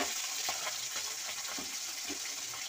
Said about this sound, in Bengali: দ্বিতীয় চালানে মাছ পড়ে যাচ্ছে আবার কড়াইতে